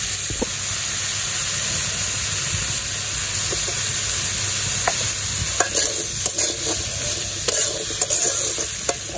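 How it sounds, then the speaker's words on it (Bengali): Potatoes and eggplant sauté in a hot pan in a village kitchen, a steady close sizzle and hiss with scattered scraping clinks from stirring throughout. "তো আমি আলু আর বেগুনটা কষাতে থাকি।"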